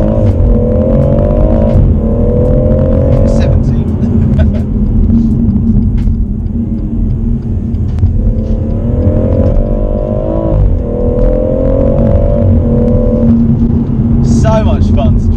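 A BMW M140i accelerating hard from standstill to 70 on a dual carriageway, heard from inside the cabin: a loud, close engine drone climbing through several gears with brief drops at each shift over steady road rumble.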